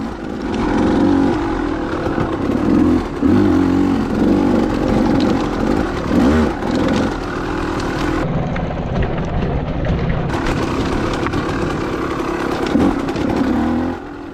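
A trail motorcycle engine droning steadily in the bottom of third gear, close and loud throughout with slight rises and dips in pitch as the rider works over rocky ground.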